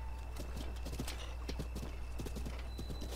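Horse hooves galloping in the video game Breath of the Wild, a rapid steady clip-clop rhythm over a constant hum of game background sound, with a short whinny.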